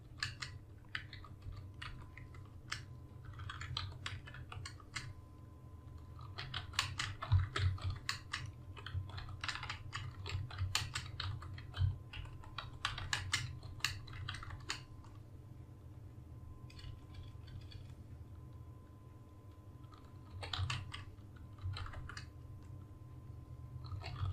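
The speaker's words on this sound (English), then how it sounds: "I just type this." Fast bursts of typing on a computer keyboard, soft, close clicks coming in uneven runs with short pauses over a low steady hum.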